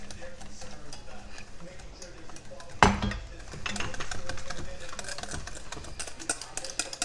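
Spoon stirring and mixing beef stroganoff sauce in a pan, a run of quick clinks and scrapes against metal with one sharp knock near the middle and a voice talking over it.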